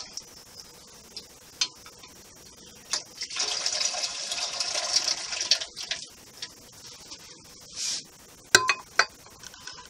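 Glass canning jars clink together in a few light, sharp taps amid running water and a kitchen sink during home canning of white bean and ham soup, fairly close and with no talk.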